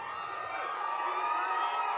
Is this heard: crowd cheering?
yes